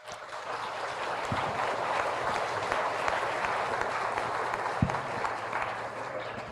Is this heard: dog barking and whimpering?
no